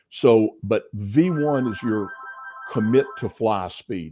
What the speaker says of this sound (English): I apologize for the phone.